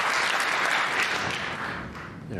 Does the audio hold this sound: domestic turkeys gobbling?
no